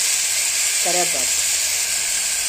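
Tomatoes, salt and curry leaves sizzle in hot frying oil with a steady, bright hiss, and a voice speaks briefly over it.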